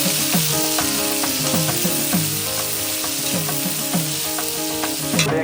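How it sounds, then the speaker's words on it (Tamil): Onions sauté in a hot pan for a homemade chicken dish, giving a loud, steady sizzle broken by repeated rhythmic scrapes of stirring, close up and without speech. "அடுத்து வெங்காயத்தை போட போகிறோம். அப்படியே வணக்கிக்கலாம்."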